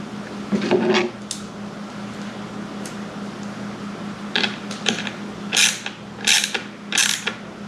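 A ratchet snugs up the nuts on battery terminal posts while a 280Ah battery kit is fitted into a battery box, several short bursts of quick metallic clicking, close and crisp, separated by pauses over a faint steady background hum.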